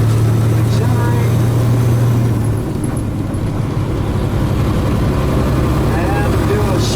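A heavy truck with a 13-speed transmission drones loud and steady at close range through an auxiliary upshift, with its low engine note dropping in pitch partway through.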